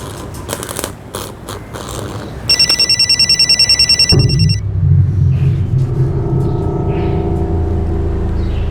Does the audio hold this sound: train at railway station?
no